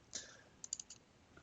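A computer mouse is double-clicked during graph editing in software, giving a few faint, sharp clicks, one isolated and then a quick cluster, close and quiet against near silence.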